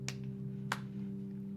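Two sharp hand claps, close and crisp, spaced about half a second apart over a steady low hum, with no other sound between them.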